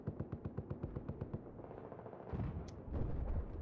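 Rapid automatic bursts from an M60 machine gun in a Battlefield video game, a fast steady string of loud shots for over a second, then trailing rumble and scattered distant battle noise.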